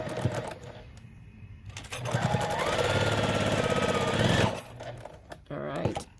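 A sewing machine runs a steady quarter-inch seam on snowflake quilt block pieces, a continuous close mechanical whir of about two and a half seconds between quieter handling sounds.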